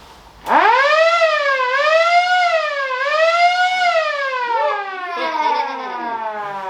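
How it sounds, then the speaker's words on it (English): A loud wailing siren on a 4x4 Willys mini jeep starts abruptly and rises and falls in repeated slow sweeps, close and sustained, with no talking. "Ollie, do you want to test that siren?"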